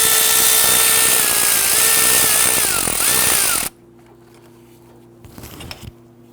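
Power tool loosening the upper bracket bolt on an Infiniti G37 during power steering pump work, a loud close whirring burst that stops suddenly, followed by quiet clinks.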